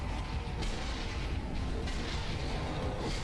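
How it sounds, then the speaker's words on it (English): Muffled, booming gunshots in the Sniper Elite Nazi Zombie Army video game, fairly quiet and blended into a constant rumbling background, with a few heavier thumps rising out of the dense noise. "I just shoot randomly"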